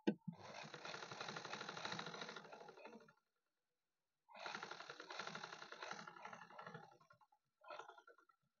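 A sewing machine stitches a side seam on a blouse's katori cup piece in three separate bursts: two long runs with a pause between, then a short final spurt, close by with a rapid clattering rhythm.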